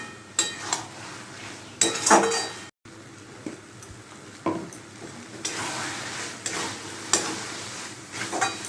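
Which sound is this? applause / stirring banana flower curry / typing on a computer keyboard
stirring banana flower curry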